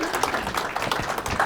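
An audience applauds at a talk event in a room, with a brief, dense wash of many hands clapping close by. The clapping stays moderately loud and continuous throughout.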